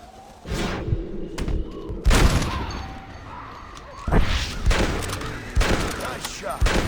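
Gunshots in the Red Dead Redemption video game, several loud sharp reports spaced a second or two apart, each with a short booming tail.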